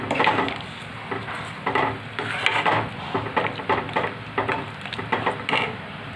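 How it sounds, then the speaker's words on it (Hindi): Spoon scraping and stirring wheat flour and gram flour halwa in a pan on the stove, steady rhythmic scrapes and soft clacks close up with a faint sizzle, no talking. "अब गैस को थोड़ा सा तेज़ कर लूँगी और इसको अच्छी तरह मिक्स कर लूँगी हिलाते हुए।"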